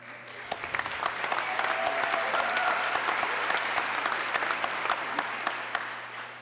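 Sustained applause from a large audience in the chamber during the Texas governor's 2017 State of the State address, steady and dense for several seconds with no talk over it.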